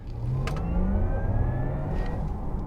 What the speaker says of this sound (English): it turns on the Porsche electric sound, which is an engineered noise which takes a totally silent driving experience and creates this fictitious noise